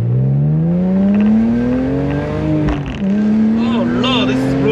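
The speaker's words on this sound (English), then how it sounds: "Let's put that in sport mode really quick and see how the acceleration will be." A BMW E46 M3 in sport mode accelerates hard, with the engine note climbing steadily, dipping at a gear change, then rising again, heard close from inside the car with voices speaking over it.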